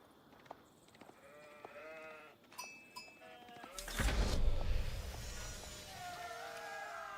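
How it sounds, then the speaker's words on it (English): Repeated sheep bleats from a strategy video game, several short calls spread through the clip alongside game sound effects and a louder impact burst midway, with no talk. "There's obviously you see a lot of sheep on this map"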